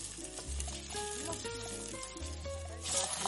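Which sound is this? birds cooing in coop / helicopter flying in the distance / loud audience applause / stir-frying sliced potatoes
stir-frying sliced potatoes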